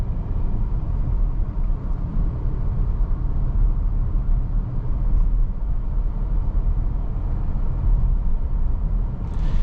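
A 2025 Kia Sorento PHEV on the move, its gasoline engine producing a steady low whirr and rumble beneath constant road noise from inside the cabin, even in level with no breaks.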